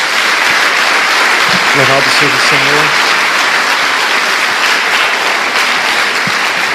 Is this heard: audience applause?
yes